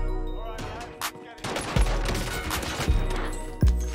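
SCAR assault rifle fire in Warzone, a slow-cadence string of heavy, punchy shots with booming low thuds and echoing tails, loud and close, spaced over a few seconds.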